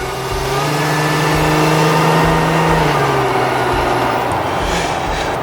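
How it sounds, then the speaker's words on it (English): A supercharged Jeep engine runs steadily up close with a loud, continuous hum and supercharger whine, and an airy blowing hiss sits on top throughout. "Besides for the supercharger wind, you can hear something. It's almost like air blowing out."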